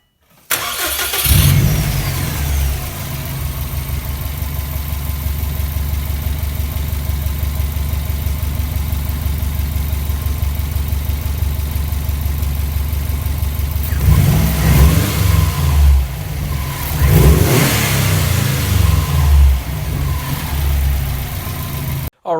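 Subaru WRX engine after a Mishimoto intercooler hose kit install cranks, catches and settles into a steady idle. Later it rises through several sharp revs before dropping back. Loud and close throughout, with no talking.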